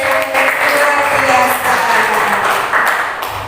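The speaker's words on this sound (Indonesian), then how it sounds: "Tepuk tangan dulu, luar biasa." A crowd applauds in a steady wash of clapping that lasts throughout, with voices talking underneath.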